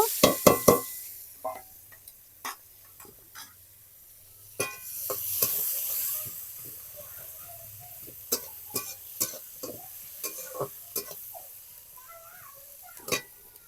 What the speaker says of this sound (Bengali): এবার কুচানো পেঁয়াজ পেঁয়াজগুলোকে একটু ভালো করে ভেজে নেব